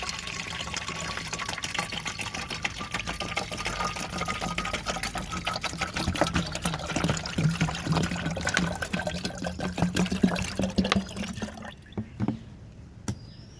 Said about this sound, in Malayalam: ഞാനിത് ഒഴിച്ചു കൊടുക്കുകയാണ് ഈ വെള്ളം കൂടുതലായിട്ട്